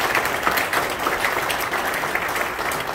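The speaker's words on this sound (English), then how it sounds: "So round of applause for all of these folks." An audience applauds the staff and team behind an event, a thick, sustained round of clapping from a roomful of people, loud and steady throughout with no speech.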